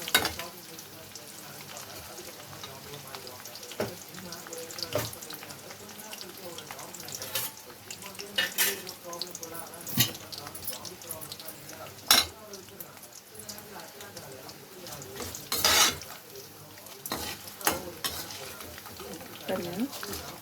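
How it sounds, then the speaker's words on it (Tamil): Green chilies fry in oil for temple-style puliyotharai with a low, steady crackle, frequent sharp clicks and scrapes of a stirring spoon, and intermittent quiet background speech. "பச்சை மிளகாய் நல்லா பொரியணும்."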